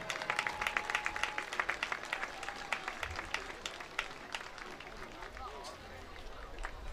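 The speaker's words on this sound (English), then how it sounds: "Another round of applause for Bill Ruth." An audience at a high school football hall of fame induction gives a round of applause, fairly distant and moderate, with distinct individual claps standing out early before the clapping thins and fades.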